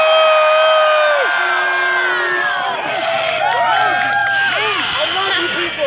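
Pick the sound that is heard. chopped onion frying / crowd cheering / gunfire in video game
crowd cheering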